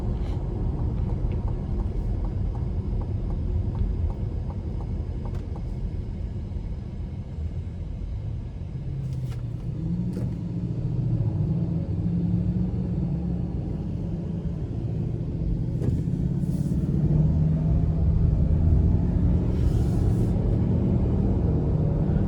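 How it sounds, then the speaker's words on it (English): Engine rumble from a 2025 Cadillac XT4 Sport with a 2.0-litre turbo four-cylinder, nine-speed automatic and front-wheel drive, heard from inside as it accelerates; the low drone swells and climbs in pitch, with road noise underneath. "I love having the 2-liter turbo 4 pair with the 9-speed. Just gets you that great feeling of acceleration"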